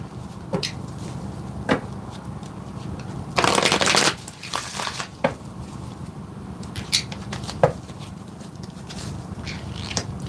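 A tarot deck is shuffled and cards pulled close by: a loud riffle burst midway, surrounded by soft scattered card slides, taps and rustles.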